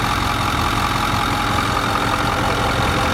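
A 2010 Ford F450 Super Duty's 6.4 liter turbo diesel engine idles steadily and close up, a dense, even rumble that stays constant throughout with no talking.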